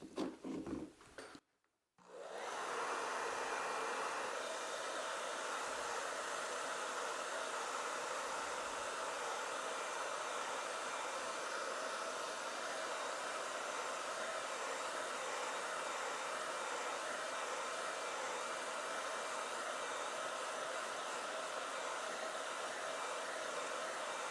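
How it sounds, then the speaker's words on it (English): A hair dryer blows with a steady, loud whooshing roar aimed at a leather seat under repair, starting after a brief rustle and continuing unbroken, no talking. "we'll hit that with our hair dryer and see how that looks"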